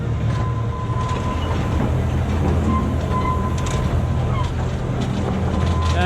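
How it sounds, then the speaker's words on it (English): Park train at Blackpool Pleasure Beach rolling along its track with a steady rumble and clatter of wheels, a sustained whine running through it and faint voices beneath. "one of the best ways of seeing the park is obviously getting the train"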